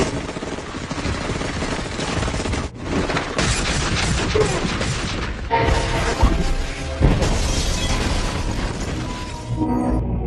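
An apartment is blown open and stormed by an armed team in a film, heard as a dense run of crashing, booming impacts and rapid gunfire-like bursts, loud and continuous with a brief drop near the middle.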